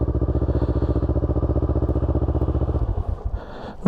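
A Kawasaki ER6N motorcycle engine runs loud and close with a steady, rapid pulsing beat for about three seconds, then falters and cuts out, followed by brief clatter and a short burst as it catches again.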